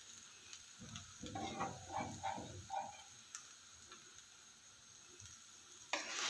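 Sabudana khichdi with fried potatoes and chopped coriander being stirred in a pan: a few soft scraping, sizzling strokes in quick succession, then a quiet hiss, ending with a brief clatter.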